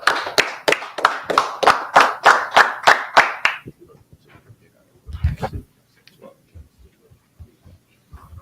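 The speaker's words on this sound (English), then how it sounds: "Clap it up." Roughly a dozen loud, evenly spaced claps from an audience at a religious law class, rhythmic and close for about three and a half seconds, then dying out into scattered taps and a brief murmur.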